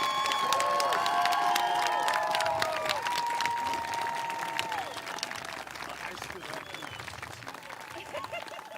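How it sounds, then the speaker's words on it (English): Big round of applause and cheering from a commencement crowd honoring the graduating high school class of 2021, dense clapping that is loud at first and gradually thins, with shouts and speech over it. "one more big round of applause for our graduates, the class of 2021"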